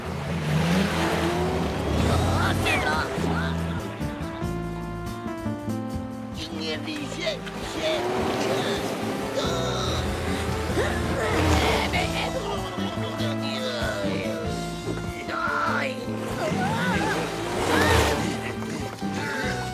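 A cartoon foiler boat speeds along under motor power, a loud continuous engine whine rising and falling in pitch, with excited voices talking over it throughout.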